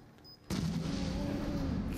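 A sudden loud explosion in the video game Resident Evil 7 cuts in halfway through, followed by a sustained heavy rumbling roar after quieter background ambience.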